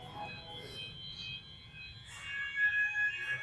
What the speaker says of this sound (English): The bloody fire alarm's gone off.